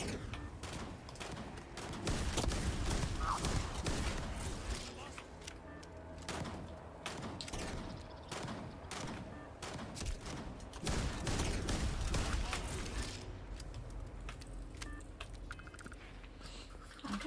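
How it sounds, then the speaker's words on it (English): Gunfire in the sci-fi video game Starfield comes as scattered sharp shots and bursts of rapid fire over several seconds, mixed with other game sounds at a moderate distance. "That's a gunshot, so it's not a horror."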